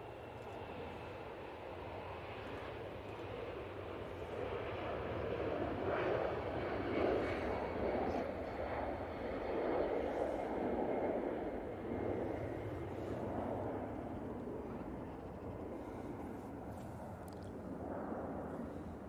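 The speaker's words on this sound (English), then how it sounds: "Brussels Airlines on the roll." A Brussels Airlines airliner on its takeoff roll at Manchester Airport, a steady broad engine roar that swells and holds at a distance for the whole stretch, with no talk over it.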